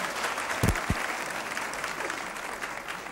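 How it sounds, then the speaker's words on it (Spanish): A television studio audience applauds steadily through the whole stretch, a dense even wash of clapping with a couple of sharper thumps near the start and no talk over it. "atendiendo a estos maravillosos aplausos"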